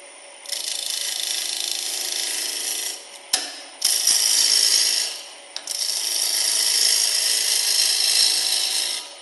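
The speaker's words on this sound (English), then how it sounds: "So you start the lathe, everything is spinning this way, counterclockwise." A wood lathe spins while a bowl is turned, giving a loud, steady high whirring hiss in long runs, broken by a brief pause and a couple of sharp clicks partway through.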